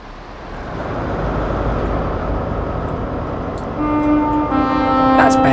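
A Class 43 HST train in Train Sim World's Great Western Express route rumbles steadily with a low engine drone, then a sustained horn-like tone rises near the end over the continuous rolling noise.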